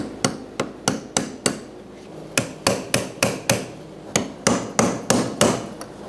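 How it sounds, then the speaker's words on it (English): A punch struck with a hammer to seat a new fuel pump lock ring on a 2011–2018 Ram 1500 3.6L, giving a series of sharp metallic blows in uneven groups, close and loud with no talking. "using the tool or a punch, we'll just punch it back, tighten it down"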